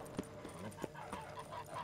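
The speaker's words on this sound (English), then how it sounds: "geese all over the place" Geese honk in the Witcher 3: Blood and Wine video game, several faint calls scattered over a quiet in-game background.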